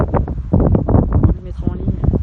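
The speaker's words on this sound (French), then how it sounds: "il y a vachement de vent, je sais pas si on va entendre grand chose" Strong gusts buffet the microphone with rough, rumbling noise while people talk nearby.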